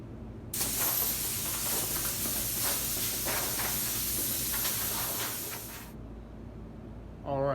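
Compressed air blasts off a scuffed panel in a loud, steady hiss that starts abruptly, holds for about five seconds and cuts off, with a voice speaking just after.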